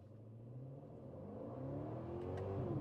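Aston Martin DB12 engine in manual mode rising in a smooth, steadily climbing rev, heard faint and muffled from inside the cabin with no talk.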